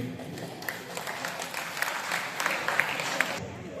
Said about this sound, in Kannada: ಅವರಿಬ್ಬರಿಗೆ ಒಂದು ದೊಡ್ಡ ಚಪ್ಪಾಳೆ